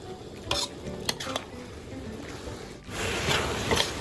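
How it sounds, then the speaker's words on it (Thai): Pork filling for sago dumplings being stir-fried in a wok, continuous scraping and stirring with spatula clatters over a steady sizzle, growing denser toward the end. "ก็จะผัดอย่างนี้ไปเรื่อย ๆ นะคะทุกคน กันไม่ให้ตัวไส้ขนมเนี่ยค่ะ ติดกับก้นกระทะ"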